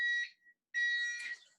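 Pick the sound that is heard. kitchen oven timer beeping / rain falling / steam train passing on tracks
kitchen oven timer beeping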